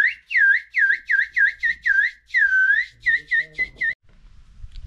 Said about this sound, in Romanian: Fluier original.